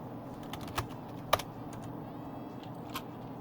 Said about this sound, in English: If I can type unpause